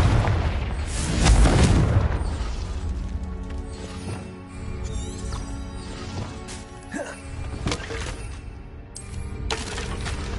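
In the video game Hogwarts Legacy, a Confringo spell erupts in a heavy booming explosion near the start, followed by crashing, shattering debris and rumbling combat effects over a busy game soundscape.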